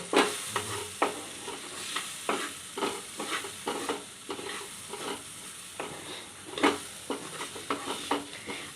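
Mung dal cooking in hot oil, sizzling steadily while a spoon scrapes and stirs the pan in repeated strokes, close and fairly loud with no talk.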